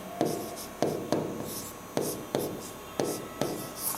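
Chalk or marker writing on a board in a classroom, a series of sharp taps and short scratchy strokes repeating every half second or so, close and clear with no talk.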